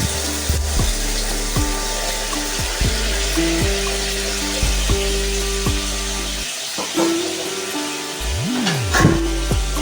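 Egg curry frying in a pan with water being added, a loud close sizzle and bubbling crackle with repeated scraping or stirring strokes, and no talk.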